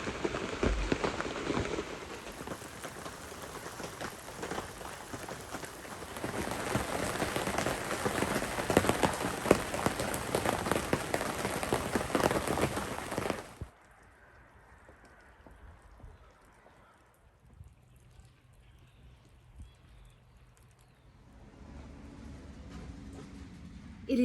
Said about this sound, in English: It's not like raining in here, and it's really coming down right there.